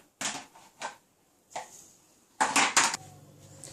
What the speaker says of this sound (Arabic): غادي نكب المشماش اللي عندي. انا غادي نزيد السكر